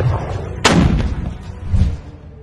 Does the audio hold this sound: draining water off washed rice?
no